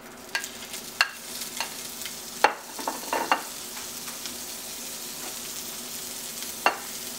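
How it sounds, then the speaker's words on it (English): Sausage frying in canola oil in a pan, a soft steady sizzle punctuated by several sharp clinks and scrapes of a utensil against the pan. "I sprayed it with some the Crisco, what you call that, original canola oil, and I'm just going to add my sausage here."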